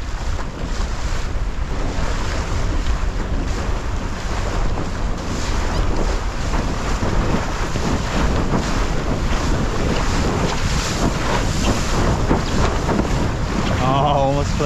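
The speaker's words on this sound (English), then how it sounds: "it's really funky east wind, so I don't know how long this will last, but it did just fill in" Strong, gusty east wind roars over the ocean while windsurfing at Lower Kanaha, with loud continuous buffeting on the microphone and rushing waves throughout.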